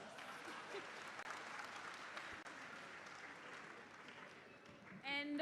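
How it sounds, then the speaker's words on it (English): An audience at an anti-corruption expo and games event claps in a faint, continuous wash of applause with a low murmur of voices beneath, rising briefly near the end. "You deserve a round of applause."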